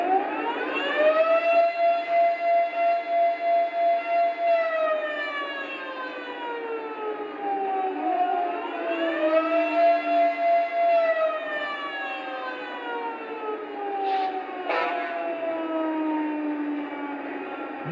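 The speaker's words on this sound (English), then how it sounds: "since this is a military-themed locomotive, Lionel went ahead and put a air raid siren for the last horn." An air raid siren serving as the final horn effect on a military-themed Lionel Legacy Veranda gas turbine model locomotive wails loud and close, rising and slowly falling twice in long sweeping cycles, with no talking.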